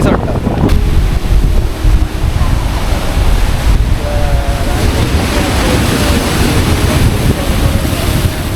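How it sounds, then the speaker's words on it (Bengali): Sea waves at Tajpur beach wash and roar in a loud, continuous surf with heavy wind buffeting the microphone; a person speaks briefly over it. "কি ঢেউ ভাই কি সমুদ্র"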